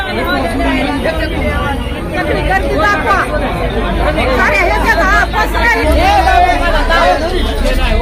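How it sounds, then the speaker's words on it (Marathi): A dense crowd packed inside a bank fills the space with loud, continuous overlapping chatter and murmuring voices, steady throughout with no single voice standing out. "बँकेच्या आत ही अशा प्रकारची गर्दी बँकेच्या आत झाल्याची आपल्याला दिसते"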